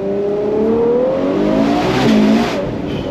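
A Ferrari 812 GTS V12 convertible accelerates hard, its engine note climbing through the revs with a shift partway and a loud, close roar to the finish, and no voices heard.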